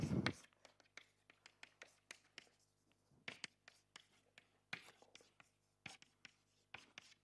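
Chalk or marker taps and scratches on a board during a physics lecture on quantum Brownian motion, a series of sparse, crisp strokes with quiet room hum beneath and a brief voice at the start.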